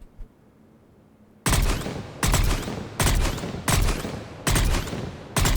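Valkyrie rifle fire in the sci-fi shooter game Mass Effect 3: after a quiet start, five loud, sharp bursts of rapid shots arrive at an even rhythm, each ending in a brief echoing tail.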